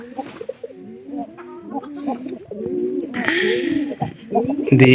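Caged pigeons cooing close by, a run of soft, throaty, repeated coos with overlapping calls, plus a brief clatter near the end.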